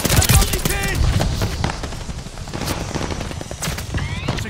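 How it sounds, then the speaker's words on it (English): Mortar and gun fire from friendly forces in a Call of Duty Vanguard 10 vs 10 Domination match, with loud dense bursts of shots and impacts rattling across the battlefield, plus a brief voice early on. "Friendly mortar fire."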